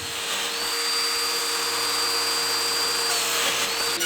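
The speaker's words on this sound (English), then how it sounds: "I'm using the domino as a slot mortiser" A domino joiner cutting a slot mortise in scrap timber for a mid-century modern chair: a steady, loud high-pitched whine of the motor and cutter running continuously and close up, ending abruptly.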